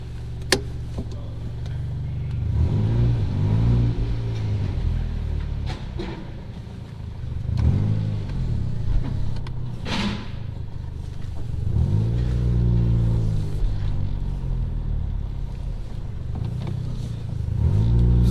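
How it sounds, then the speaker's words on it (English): A turbocharged car on an E85 tune driving on the street, its engine droning low and steady with a few rising revs and surges, close and continuous throughout. "I'm going to take it for the street drive right now and see what's going on."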